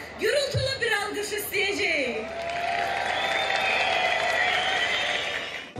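A crowd in Ganja celebrating Victory Day claps and cheers, with voices and whoops at first, then sustained applause that carries on steadily at a moderate distance.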